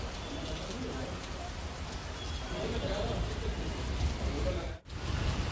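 Light drizzle falls in Bhiwandi as a steady, soft hiss of rain that continues throughout, with birds, including a cooing dove, audible in the background.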